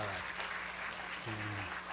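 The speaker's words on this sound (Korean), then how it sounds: "박수로 환영하겠습니다." A church congregation claps steadily throughout, a dense, continuous wash of applause with a low hum of voices beneath.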